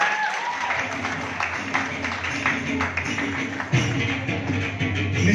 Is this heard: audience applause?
yes